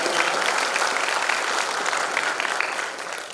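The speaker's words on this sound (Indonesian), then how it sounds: "tepuk tangan yang meriah untuk Kantika" An audience applauds a speaker at a front-end web development track session, with sustained, fairly loud clapping from a room of people that stays even and gradually eases off toward the end.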